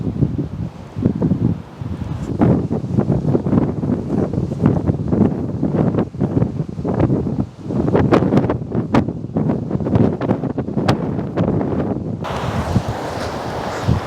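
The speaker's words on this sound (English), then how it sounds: "It's windy as hell." Strong coastal wind among sand dunes buffets the microphone in continuous loud roaring gusts, with rumbling bursts throughout and no voices.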